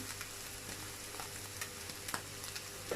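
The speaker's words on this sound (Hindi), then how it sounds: "मीडियम फ्लेम पे मैं इसको कर रही हूँ फ्राई, ताकि चिकन जो है स्पाइसेस के साथ थोड़ा सा क्रिस्पी सा फ्राई हो जाए" Chicken pieces with spices and chaat masala fry over a medium flame, a quiet, steady sizzle with a few soft clicks and a faint low hum underneath, no voices.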